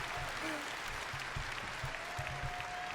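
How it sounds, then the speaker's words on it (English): Audience applause at the BlizzCon 2023 closing remarks rings out steadily through the full stretch as a dense, even patter of many hands, with a voice over the speakers faintly behind it. "Why are they clapping though?"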